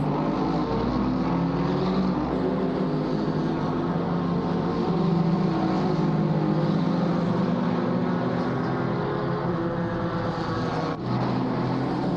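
GT4 race cars at COTA in a racing video game, a steady loud engine drone with layered revving and gear changes from several cars running close together, no voices.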